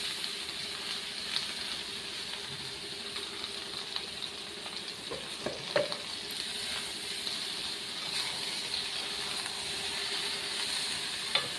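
A blended spice paste for Bengali shukto frying in a pan over a high gas flame, giving a steady soft sizzle and hiss with a few faint stirring clicks, close and continuous with no talk.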